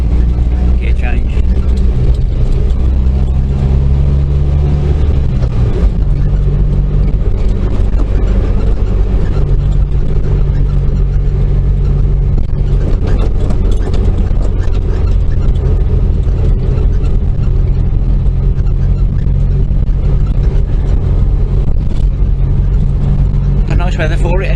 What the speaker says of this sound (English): Gear change.